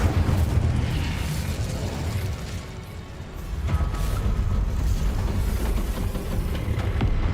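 A fire spell blast cast as Incendio in the Hogwarts Legacy video game: a sustained, loud roaring burst of fiery rumble lasting the whole stretch, dipping briefly midway before surging again, with no talk.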